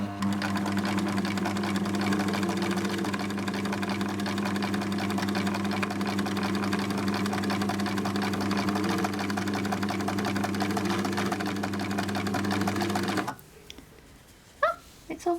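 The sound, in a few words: sewing machine zigzag stitching a hem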